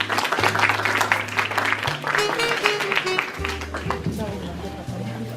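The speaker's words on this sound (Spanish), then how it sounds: "Aplausos, por favor." Audience applause in a hall at a Peruvian medical student conference in Ica, 2016, a steady dense wash of many hands clapping for several seconds under a low electrical hum and a few voices.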